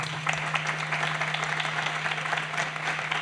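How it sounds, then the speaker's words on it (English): An audience applauds chapter sponsors at a small business marketing meeting, a steady, dense wash of clapping with a low steady hum beneath, sustained at an even level throughout. "If we could get a round of applause for our chapter sponsors."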